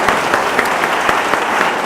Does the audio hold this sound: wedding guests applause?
yes